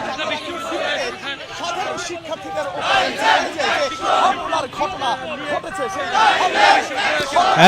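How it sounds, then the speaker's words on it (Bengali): A Chhatra Dal student protest march at Dhaka University, with a loud crowd chanting slogans in rising and falling bursts over constant shouting and chatter nearby. "তার প্রতিবাদে বিক্ষোভ মিছিল করছে ঢাকা বিশ্ববিদ্যালয়ে"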